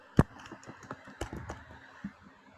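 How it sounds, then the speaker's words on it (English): Keys clack on a computer keyboard in a short, irregular run of taps, one sharp strike near the start and lighter presses after it, close and fairly quiet. "Country, type your country."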